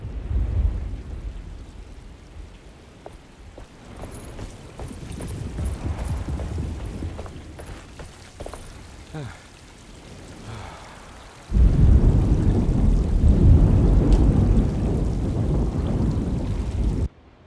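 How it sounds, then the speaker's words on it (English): Thunderstorm with rain in the video game Alone in the Dark: steady rainfall with low thunder rumbles, a quieter spell, then a sudden loud surge of heavy rain and thunder that holds before briefly dropping away at the end. "Just keeping an eye out for the storm. Radio says it could be a wild one."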